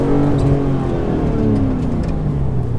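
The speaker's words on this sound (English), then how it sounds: "hit the power to get the car sideways" A Lamborghini Aventador SVJ accelerates into a drift at low speed, its engine note rising in a layered, climbing roar with steady intensity, heard from close by with no voices.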